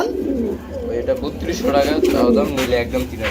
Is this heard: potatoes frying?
no